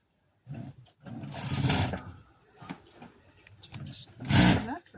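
A sewing machine stitches a blouse in short separate bursts of whirring, loud and close, with quiet gaps and faint knocks between runs.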